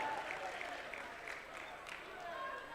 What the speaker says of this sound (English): The student section cheering pretty good as one of the Lovell Bulldogs getting ready to check in.